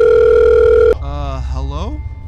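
A phone call rings with a steady, loud electronic tone that cuts off abruptly, followed by a brief warbling tone as the line connects, close up with no voices.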